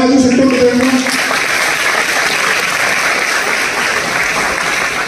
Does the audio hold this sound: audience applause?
yes